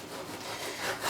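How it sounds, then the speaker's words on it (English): A knife slices through pork cheek on a board in a short, faint, rasping cut, a quiet scraping stroke with no other sound. "Cut pork cheek into slices, each slice less than 1 centimeter thick."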